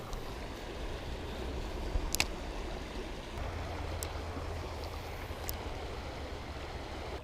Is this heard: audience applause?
no